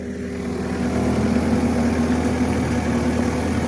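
A John Deere skid loader's engine runs at a steady, loud idle close by, a constant low droning rumble with no break or change in pitch.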